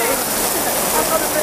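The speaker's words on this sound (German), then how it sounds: "Also richtig Regen." Heavy rain pours down steadily outdoors, a loud dense hiss of drops covering the whole moment without a break.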